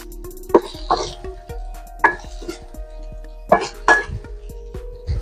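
Seasoned food with MSG, ground pepper and a little salt is stirred in a pan, giving several close metallic scrapes and clinks of a utensil against the pan in separate bursts, with no talk.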